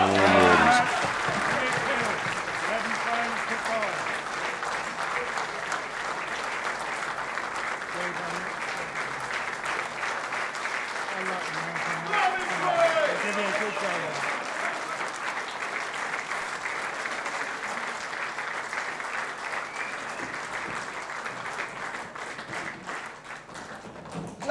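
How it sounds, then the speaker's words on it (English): Sustained crowd applause fills a hall after the men's final of the 2015 World Eightball Pool Championship, a dense steady wash of clapping lasting the whole stretch, with faint voices mixed underneath. "Let's hear a massive round of applause for our runner-up, Nigel Clarke."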